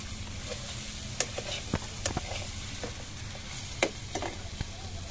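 Spice paste for Bengali egg curry fries in a pan, giving a steady low sizzle broken by the sharp scrapes and taps of a spoon stirring, moderately close, with no talking.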